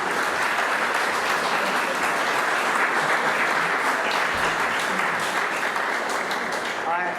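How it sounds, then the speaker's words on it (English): Loud, sustained applause from a large crowd, dense continuous clapping that holds steady for several seconds before tapering off at the end. "I wish I could clap that loudly by myself"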